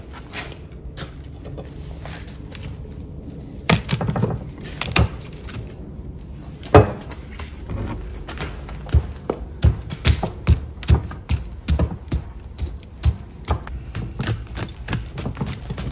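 A lopper cuts through the thick roots of a large bonsai during repotting, making a run of sharp, close snips, taps and woody thuds at irregular intervals over a low background rustle.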